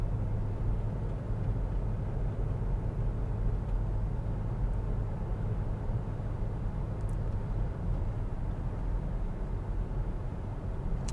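A BMW X5M F85 tows a trailer at quarter throttle around 50 mph in seventh gear, heard as a steady low engine and road rumble with constant wind and tire noise from inside the cabin, no talking.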